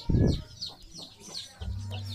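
A mother hen and her newly hatched chicks forage together in a free-range plot in front of a coop, with soft clucks and a chorus of high, thin chick peeps close by, some low-pitched bursts and a brief steady hum.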